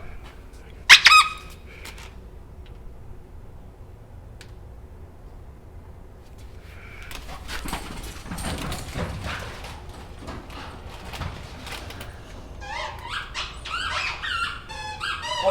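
A dog chews on a Kong Wubba hippo squeaky toy: a couple of sharp squeaks early on, then quiet shuffling and mouthing, building to a quick run of high squeaks near the end.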